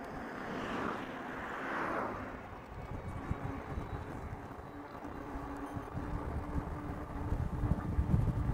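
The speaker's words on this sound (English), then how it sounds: "wind is picking up again" Wind blowing outdoors in Amsterdam during a bike tour, a steady roaring rush of wind buffeting the microphone, building stronger toward the end.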